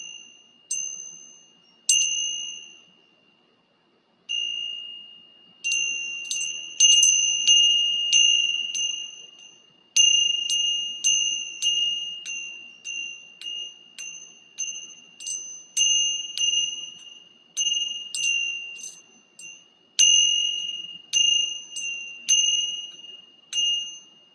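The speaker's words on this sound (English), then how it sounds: "Some folks use a gong or other kind of bell." A small bell rings repeatedly during a group candle meditation, its clear, bright tone struck again and again in uneven succession, each strike ringing out and fading in an otherwise quiet room.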